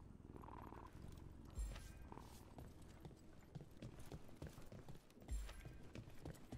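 A cat purring as it is petted in the video game Dragon Age: The Veilguard, a soft low rhythmic rumble running steadily under quiet game ambience, with a couple of brief thumps.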